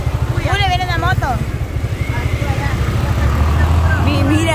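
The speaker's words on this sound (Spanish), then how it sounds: "Julio viene en la moto." A motorcycle engine putters and grows louder as it approaches on a street, running under loud nearby conversation between people.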